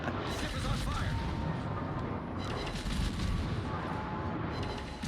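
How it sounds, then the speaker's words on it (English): Naval battle in World of Warships with dense, overlapping gunfire and explosion booms, a continuous rumbling barrage of shots and blasts at steady loudness with no pauses. "It's just for chat to listen into the sounds of the explosions and stuff."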